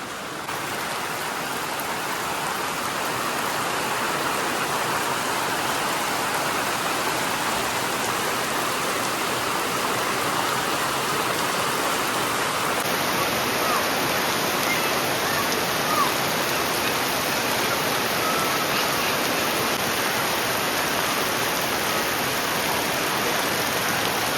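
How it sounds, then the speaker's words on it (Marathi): Heavy monsoon rain pours steadily over the Konkan countryside, a dense, unbroken hiss of water that stays loud and even the whole time, with no voices. "जोरदार पाऊस आलाय."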